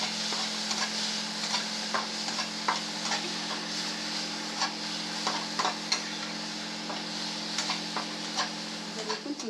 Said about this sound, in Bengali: একটু লবণ আর পরিমাণ মতন হলুদ দিয়ে চিংড়ি মাছটাকে ভেজে নেব